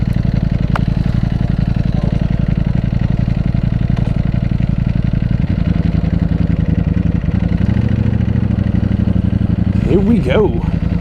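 Ducati Panigale V4 motorcycle engine idling, a loud, steady low rumble held throughout, with a brief rising rev near the end.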